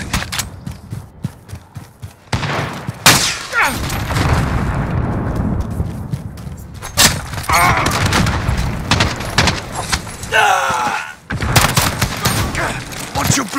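Rapid bursts of automatic gunfire and booming explosions from Call of Duty Modern Warfare multiplayer, loud and dense throughout with voices shouting over the battle.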